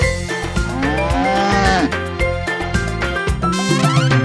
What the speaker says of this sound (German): Mit Mumu hier und Mumu dort, hier ein Mu, dort ein Mu, überall ein Mumu.